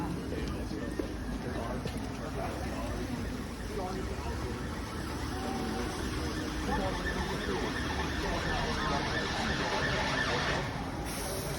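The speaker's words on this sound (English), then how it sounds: "this is a European ambulance or British ambulance." A two-tone British ambulance siren wails steadily in the background in Yorkshire, continuous and fairly distant, with faint talking underneath.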